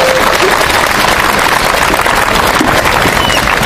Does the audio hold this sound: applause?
yes